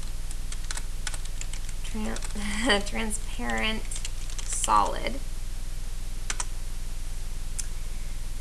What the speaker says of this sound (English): I'm typing live time here.